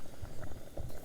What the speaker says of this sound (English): our potatoes are boiling away over here.